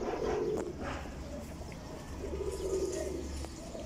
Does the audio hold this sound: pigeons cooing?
yes